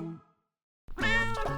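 A domestic cat meows twice, a short call followed after a pause by a longer, louder drawn-out meow, close and clear with no talk.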